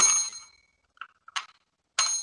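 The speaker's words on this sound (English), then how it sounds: "The bell sounds like shit." A bell strikes several times, each ring a bright metallic ding with a short decay, separated by quiet gaps and a couple of faint taps, heard clearly without any voices.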